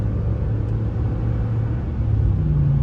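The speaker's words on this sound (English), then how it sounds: "love the way that sounds when you rev it out." A Ram 1500 pickup truck engine revs up with a steady low rumble and exhaust burble, loud and close, rising slightly toward the end with no talk over it.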